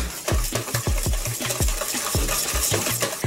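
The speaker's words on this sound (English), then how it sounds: "So we're going to whisk this until it's nice and smooth." Brownie batter whisked by hand in a bowl, with fast rhythmic strokes of the whisk making steady rattling clicks and thumps, close and loud, no voices.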